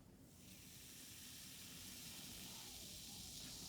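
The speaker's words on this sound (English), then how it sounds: "Oh, I see some fizzling." Baking soda reacting with vinegar gives a steady, soft fizzing hiss that rises in the first half second, then holds even and close with no talking.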